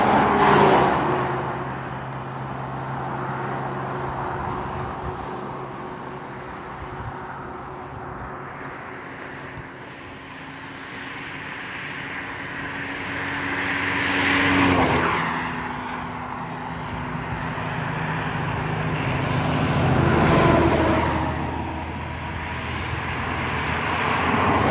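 Cars rush past a parking lot in Cyprus, each approaching and fading in long swells of engine and tyre noise, with several distinct pass-bys at moderate distance over a constant traffic rumble.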